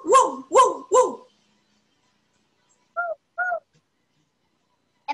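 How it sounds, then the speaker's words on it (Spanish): Three loud, sharp dog barks come in quick succession close by, followed after a pause by two shorter, softer tonal yips. "Perro."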